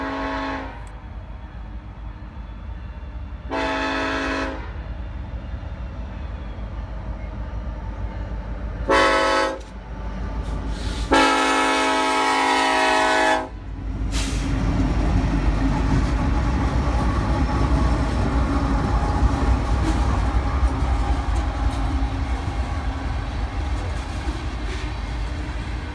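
A CSX freight train rumbles steadily past, loud and close, while its horn sounds several times: short blasts early on, then one long blast before the roar continues.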